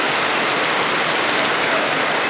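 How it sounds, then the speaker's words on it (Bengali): Heavy rain in Dharmapasha pours down in a loud, dense, unbroken roar of drops, close and steady throughout with no voices. "ধর্মপাশায় আজ প্রচুর পরিমাণ বৃষ্টি হচ্ছে।"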